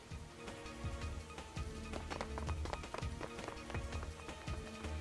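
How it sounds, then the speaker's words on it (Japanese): Running footsteps hurrying down a staircase in the visual novel Psychedelica of the Black Butterfly, a quick, uneven run of close, thudding steps lasting several seconds, with faint talk beneath. "足音は下に向かったな。"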